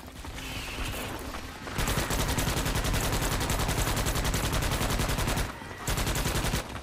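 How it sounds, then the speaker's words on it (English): Rapid automatic gunfire in a shooter video game played as the Engineer class, a loud sustained burst of fast evenly spaced shots, a short pause, then another burst. "I was shooting at nothing."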